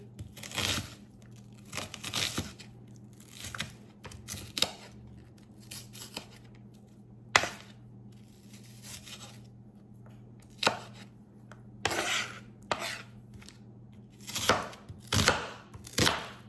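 A knife chops vegetables, including onion, for a curry cabbage soup, making crisp, irregular bursts of cuts on a board. The chopping is close and comes in clusters with short pauses, over a faint steady hum.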